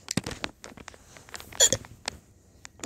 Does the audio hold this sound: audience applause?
no